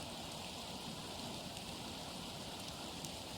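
Rain falls in the survival game The Planet Crafter, a soft, even, continuous wash of patter that stays faint and distant without any voices.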